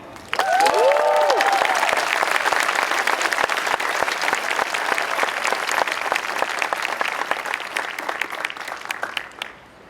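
An audience at a university architecture commencement ceremony gives sustained applause, a dense wash of clapping that starts abruptly, holds for several seconds and fades out at the end.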